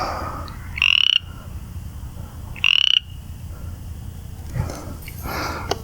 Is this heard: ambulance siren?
no